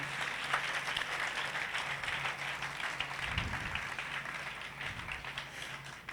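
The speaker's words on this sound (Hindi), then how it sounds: "ताली बजा के प्रभु को महिमा दें।" Congregation at a Saturday Satsang clapping to glorify the Lord, a soft, continuous patter of hands from a crowd heard at some distance, fairly faint and steady, with a low thump partway through.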